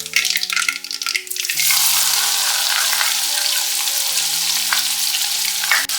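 Chopped onions and green chilies dropped into hot oil in a pan for a stuffed eggplant curry, giving a loud, steady sizzle with stirring scrapes and a faint background melody.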